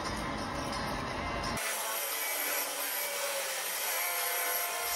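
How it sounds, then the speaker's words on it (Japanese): An aluminium wheel is hand-sanded with 120-grit sandpaper during curb-rash repair, giving a harsh, continuous scratchy hiss up close that starts abruptly and carries on steadily. "サンドペーパー120で磨き始めていきます。"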